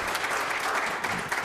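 A chamber of commerce gathering applauds its new incoming president at a board installation, a short stretch of dense, even clapping from a roomful of people.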